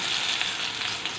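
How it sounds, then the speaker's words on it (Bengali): Pieces of eggplant, cut for a potato-eggplant curry and seasoned with salt and turmeric, sizzle steadily in hot oil in a home kitchen, a constant crackling hiss with no talking. "সেই বেগুনগুলো একটু ভেজে নেব"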